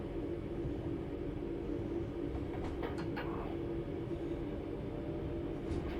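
A train rolling steadily in Train Sim World 3 on the Birmingham Cross City line, a constant loud rumbling drone with a few faint squeals and clanks midway, no voices.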